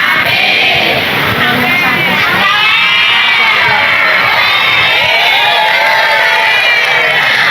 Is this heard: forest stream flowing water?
no